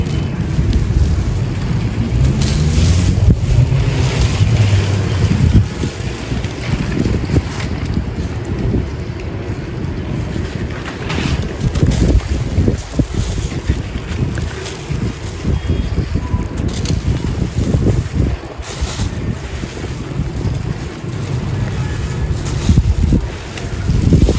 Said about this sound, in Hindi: और हवा तो बहुत ही तेज़ चल रही है